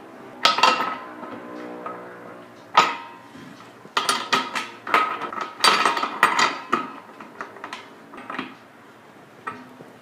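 Metallic clinks, taps and ratcheting clicks ring out close by in irregular bursts as a wrench tightens the gas connector on a postmix keg.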